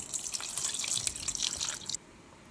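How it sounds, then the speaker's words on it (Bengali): Water poured into a bowl over cut raw bananas in a kitchen, a close splashing trickle lasting about two seconds before stopping abruptly. "এবার এর মধ্যে কিছুটা জল দিয়ে দেব।"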